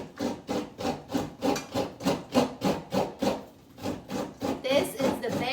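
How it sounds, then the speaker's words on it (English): Fresh coconut grated by hand for cook-up rice, a steady rhythmic rasping with about a dozen even scraping strokes, close and clear, with a brief pause midway and no talking. "This is the best way to grate your fresh coconut to add to your cook-up rice"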